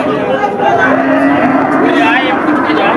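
A cow at a village cattle market lets out one long, loud, close moo that fills almost the whole moment, with faint crowd chatter behind it.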